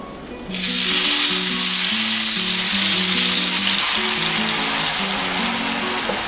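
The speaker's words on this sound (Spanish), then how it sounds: "Ya nuestra manteca ya está caliente. Y le vamos a poner nuestra salsa." Salsa verde of tomatillos, epazote and garlic hits hot pork lard with a sudden loud sizzle that keeps frying vigorously, with soft music playing underneath.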